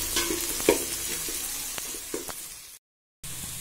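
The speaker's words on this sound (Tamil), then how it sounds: "அந்த ஆனியன்ஸ் கொஞ்சம் நல்லா ப்ரௌனாக வதக்கணும்" Onions sautéing in a pan until brown for a biryani, a steady broadband sizzle with a few sharp stirring scrapes, close by, cutting to brief silence near the end before the frying resumes.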